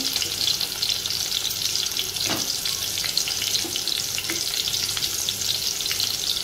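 Onion and green chili fry in a pan for a dried fish curry, a close, even sizzle running without pause, with a few light scrapes and taps of a utensil.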